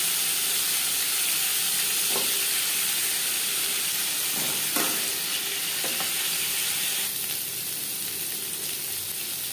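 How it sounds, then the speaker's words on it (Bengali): Potatoes fry in hot refined oil for a soybean curry, giving a steady loud hissing sizzle throughout, with a few brief utensil knocks in the middle. "দুটো চামচ রিফাইন্ড অয়েল গরম করে নিয়েছি। এবার দিয়ে দেবো আলু।"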